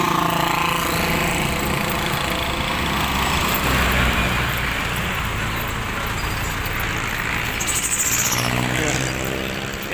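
Motorcycles and traffic roar past along a highway in Bay, Laguna, a constant loud engine drone with swelling passes and rough rumble throughout.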